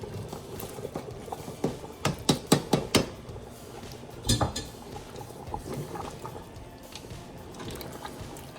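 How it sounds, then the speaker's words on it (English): Mutton stock bubbling at a full boil while rice is poured in, with a burst of quick splashy pattering and a rattling pour over a continuous, rolling bubble nearby. "Stock is on a full boil. I'm gonna add rice."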